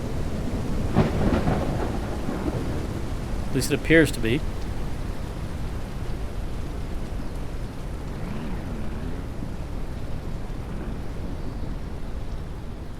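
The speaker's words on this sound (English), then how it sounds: "I think the storm is passing" Thunderstorm ambience in the Ranch Simulator video game: continuous rain and low rumbling thunder, with a brief sharper burst early on, while someone talks over it.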